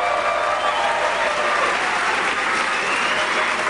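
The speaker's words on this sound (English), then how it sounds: "Mary Ann certainly deserves our applause for all her hard work" An audience at a political speech breaks into dense, continuous applause, loud and even, with a crowd murmur underneath throughout.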